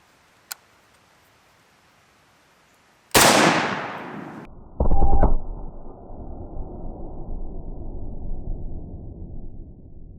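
A single loud gunshot from an IWI Galil AK pistol, sharp crack followed by a short echoing tail, then a second blast and rumbling wind noise outdoors.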